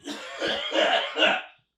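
A few rough, close coughs in quick succession, with a brief throat-clearing quality, then silence.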